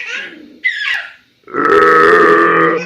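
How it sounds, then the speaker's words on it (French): A woman in a comedy sketch makes weird, troll-like burps: two short croaking belches, a brief pause, then a long, loud, drawn-out burp close up. "elle fait des sortes de rots comme un troll"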